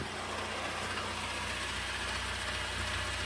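Acura TSX idling with a redone exhaust: a steady, even low rumble with a faint ticking pulse, held close and constant for the whole stretch, no voices over it.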